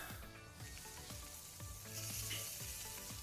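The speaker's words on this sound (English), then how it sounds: "And I think it's about time to turn my filet." Beef tenderloin filet sizzling steadily on a grill just after being turned, a close, continuous frying hiss with soft repeated pops throughout, no talking.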